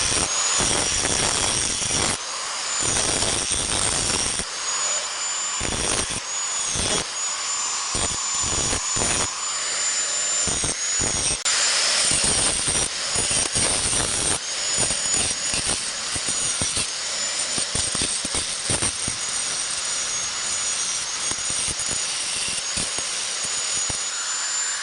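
An angle grinder works the broken header frame of a DC70 combine harvester, preparing the steel for welding; a loud, continuous high-pitched whine with rough scraping bursts runs throughout, close up and alone.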